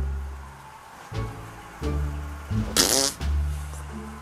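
A cartoon fart sound effect blares loudly for about half a second among other animated sound effects and a low musical background.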